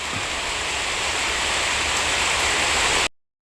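Steady, dense hiss of heavy rain in Bangkok pours down continuously, then cuts off abruptly near the end.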